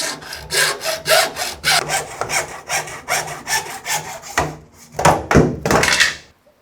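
A hand saw cuts through PVC skirting board in steady, rhythmic back-and-forth strokes, close and fairly loud, ending in a few slower, harder strokes and a final thunk as the cut finishes.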